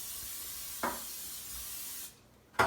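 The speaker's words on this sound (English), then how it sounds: "we're going to get it all sprayed with our non-stick spray" Non-stick cooking spray is sprayed onto a muffin pan over a sink in short, steady hissing bursts, close by and fairly quiet.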